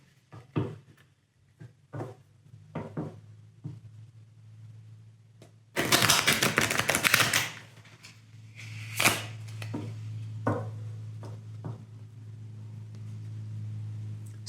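Tarot card deck being reshuffled at close range: scattered light taps and clicks, then a dense riffling burst of cards lasting about two seconds, followed by a few softer card sounds over a low steady hum.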